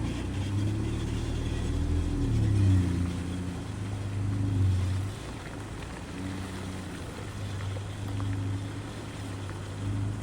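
A lifted Nissan Frontier drives through a small mud hole on an off-road trail in a wildlife management area, its engine a steady low rumble with swelling revs and muddy sloshing throughout, no voices.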